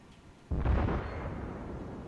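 One heavy boom from a Japanese Myoko cruiser's 203 mm naval guns in World of Warships, starting suddenly after a quiet half-second, then rumbling and slowly fading into a long low tail.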